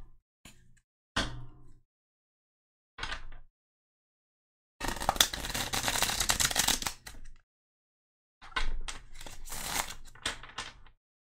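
Santa Muerte tarot cards are shuffled by hand in separate bursts. There are short riffles early on and two longer, dense flurries of papery flicking later, close and loud, with silence between them.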